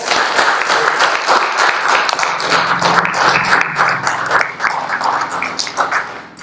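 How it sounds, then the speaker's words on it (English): An audience applauds Peter at a St Peter UCC church service, a dense, steady round of clapping that holds loud for several seconds before tapering slightly at the end. "So let's give Peter a round of applause."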